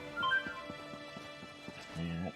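Hoofbeats of a horse mount in the video game Elder Scrolls Online, a steady clip-clop rhythm at moderate loudness with a short louder burst near the end. No one speaks.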